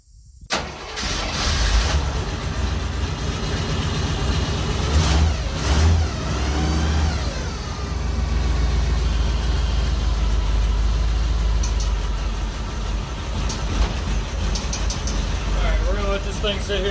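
A classic Jeep J20 truck engine cranks and catches, then revs up several times before settling into a loud, rough, steady idle close by.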